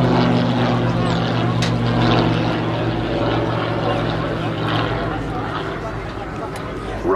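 An aerobatic propeller plane at the Southport airshow drones steadily overhead in level flight, loud and sustained, while a commentator talks over it on the public address.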